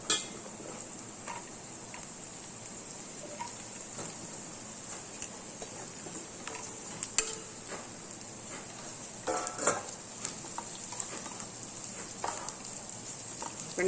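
Cut okra frying in a pan with onion and green chilli, a steady soft sizzle with occasional spatula scrapes and stirring clatter, no voices.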